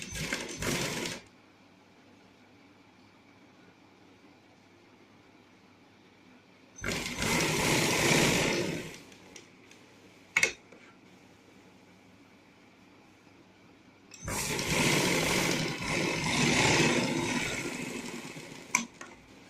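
Sewing machine stitching along the edge of a neckline in three bursts, a brief one at the start and two longer runs of rapid, steady whirring clatter, separated by quiet pauses with a single sharp click between.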